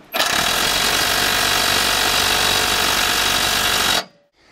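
A ratchet with an extension loosens a bolt on the differential of a BMW E91. It gives a loud, steady mechanical whir for about four seconds, then stops abruptly, with no talking.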